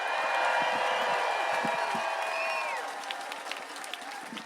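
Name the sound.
crowd applause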